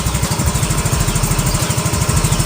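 Yamaha Soul GT scooter engine running close up, a fast, steady mechanical pulsing as the throttle is opened, loud and even throughout with no talk.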